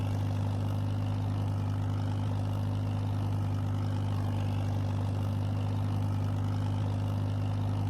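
A tractor engine in a logging roleplay video game runs steadily with a deep, constant drone and a low hum that does not change for the whole stretch, with no talking.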